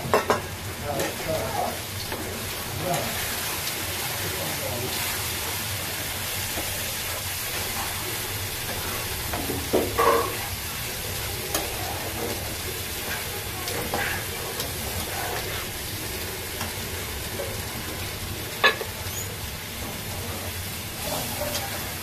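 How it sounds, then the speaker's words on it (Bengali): Water hits sizzling spice masala in a pan for a chicken dish, producing a steady loud hiss and bubbling sizzle with scattered stirring clinks throughout and no voices. "এখন একটু পানি দিয়ে দিচ্ছি মশলার মধ্যে।"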